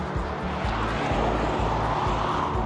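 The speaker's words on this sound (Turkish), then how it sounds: "Ben de fırsat bulmuşken drone ile çekeyim dedim." A drone flies nearby with a steady, loud propeller whir that drones on without a break, and no one speaks over it.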